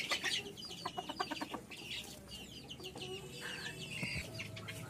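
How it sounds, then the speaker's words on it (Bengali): Silver Sebright bantam chickens clucking and chattering in a pen, several birds with repeated short clucks and squawks, fairly close but quiet, no talking. "এই পাশে সিলভার শেভরাইট আছে, রানিং সিলভার শেভরাইট আছে 4 piece, 2 piece mail 2 piece female."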